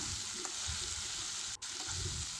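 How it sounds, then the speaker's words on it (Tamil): Chili powder, turmeric and salt sauté in a pan for a vegetable gravy, giving a steady close sizzle with a faint stirring scrape and one brief dip partway through, without talk. "இப்போ சுவைக்காக மிளகாத்தூள் மஞ்சள் தூள் உப்பு சேர்த்து வதக்கிடலாம்"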